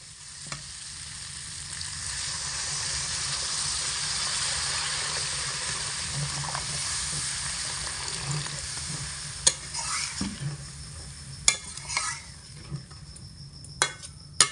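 Water poured into sizzling masala in a pan while cooking pea ghugni, a steady loud hiss and sizzle that slowly settles, followed by a few sharp clinks of a utensil near the end.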